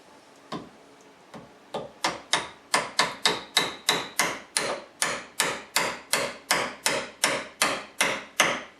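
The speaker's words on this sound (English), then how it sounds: "We'll see if it taps in easy now." A door bushing insert is hammered into a Jeep JK door hinge, a long run of sharp, evenly spaced metallic taps that quickly settle into a steady rhythm and grow firmer, close and alone.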